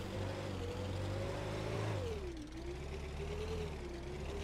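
A vehicle engine in the Brick Rigs game, towing a 25-pounder field gun, drones steadily at mid pitch, dipping briefly then settling into a continuous hum with no talk.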